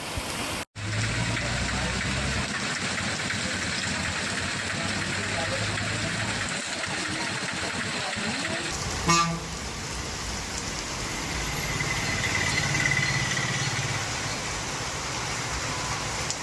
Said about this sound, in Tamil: சாலைகளில் மழைநீர் பெருக்கெடுத்ததால் வாகன ஓட்டிகள் தடுமாறினர்